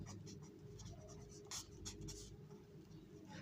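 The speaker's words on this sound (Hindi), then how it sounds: "यहाँ पे सॉल्यूशन लिख लेते हैं।" A pen scratches across paper as a math solution is written out by hand, a quiet string of short strokes and taps close by under a low hum.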